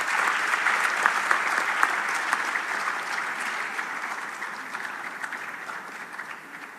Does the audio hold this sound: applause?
yes